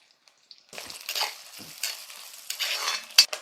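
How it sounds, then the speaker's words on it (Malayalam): Coconut pieces drop into hot oil in a pan and start to sizzle, a brief burst of crackling frying with a metallic clink from the pan or spoon. "തേങ്ങാക്കൊത്ത് ആദ്യം ഇട്ട് കൊടുക്കാം."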